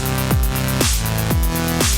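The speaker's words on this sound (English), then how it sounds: "Here's a bass patch I made." Synth bass patch built in the Caustic app, playing four evenly spaced notes, each opening with a bright attack that sweeps downward into a deep, loud sustained tone with no voices.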